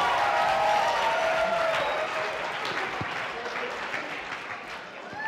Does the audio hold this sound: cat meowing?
no